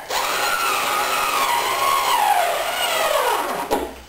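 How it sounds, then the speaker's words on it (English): Milwaukee cordless screwdriver driving 5/8 stainless screws, a loud, steady whirring motor whose pitch sags as it loads up, then stops abruptly near the end, close-up with no talking. "I've had this little Milwaukee cordless screwdriver since 1988"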